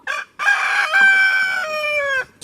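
Backyard flock of about 25 chickens gathered around food scraps: a rooster gives one loud, close crow drawn out over about two seconds, with short clucks just before and after.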